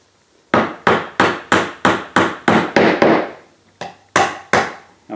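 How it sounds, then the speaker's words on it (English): Hammer taps driving a nail into a wooden Cathedral birdhouse kit, about a dozen sharp, evenly spaced strikes close to the mic, with a short pause before the last few blows. "I'm working with the hammer, 90 degrees to the nail, just tapping it."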